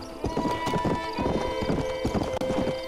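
A rare, agile horse in Red Dead Redemption clops steadily along with rhythmic hoofbeats, close and continuous, alongside a sustained tonal game sound and a brief whinny-like note.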